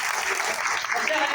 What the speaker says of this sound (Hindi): जरा मैडम के लिए जोरदार तालियां हो।